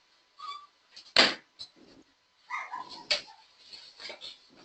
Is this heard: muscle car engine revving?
no